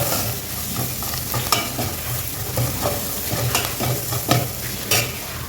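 Pepper rasam ingredients stirred in hot oil in a pan, giving a steady sizzle and frying crackle broken by repeated scraping strokes of the stirring spoon, close and fairly quiet.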